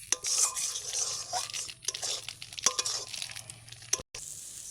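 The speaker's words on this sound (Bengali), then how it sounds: "এটাকে ঘন ঘন নাড়তে থাকবো একদম সুজিটা যত সময় না শুকনো হয়ে আসছে" Semolina stirred often in a pan over low heat until it dries, giving soft scraping, crunchy and sizzling noises in an irregular rhythm, close by, with no talk.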